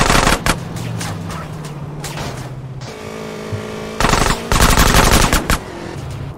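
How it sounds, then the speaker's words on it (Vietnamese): Rapid bursts of gunfire from GTA San Andreas Remastered, loud and close, with sustained automatic volleys and clustered shots separated by short pauses. "Thật mình bắn luôn nhá Hóa ra mình bắn được à"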